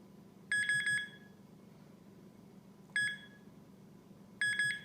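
A handheld metal detector pinpointer sounds over a 14 karat rose gold ring, giving three short bursts of rapid high beeps separated by quiet pauses.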